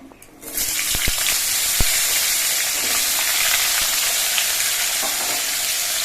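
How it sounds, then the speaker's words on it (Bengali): Potatoes tossed into hot oil with cumin and bay leaves, a loud, steady sizzle and crackle that flares up after a quiet first half-second and holds strong throughout, with a few sharp clinks of a utensil against the pan. "আলুগুলো কিছুক্ষণ ভেজে নিতে হবে"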